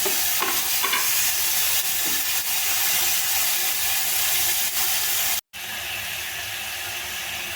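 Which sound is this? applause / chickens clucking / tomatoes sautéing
tomatoes sautéing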